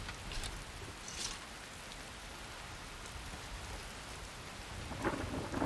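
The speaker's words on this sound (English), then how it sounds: "Still raining like crazy though." Heavy rain pours steadily with low rumbling thunder in the Skyrim video game, a soft, even hiss throughout with a brief swell of louder rumble near the end, no voices.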